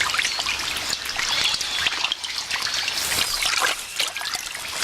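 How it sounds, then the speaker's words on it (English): An armadillo swims for her life in a swollen, flooded river in the Amazon rainforest, with a steady, close wash of rushing, splashing water and no voices. "The floods have driven the armadillo out of her burrow and into the swollen river to swim for her life."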